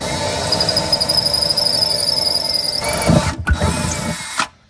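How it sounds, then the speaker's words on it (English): A power drill bores through a van's metal floor sheeting during a van conversion, a loud whining drone with a high squeal that drops away near the end, followed by a few clunks and then quiet. "So now we know where to drill through the metal"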